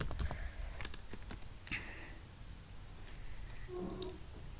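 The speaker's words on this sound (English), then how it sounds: "So I will type Adidas." Typing on a computer keyboard, a run of soft, close, irregular key clicks and taps at low volume with no talk, a few sharper clicks standing out near the end.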